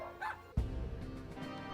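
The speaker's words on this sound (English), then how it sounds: "transformed into a small terrier" A small terrier in the game Lil Guardsman lets out a sudden sharp bark, followed by a brief ringing tail, after a quiet opening, with no talking.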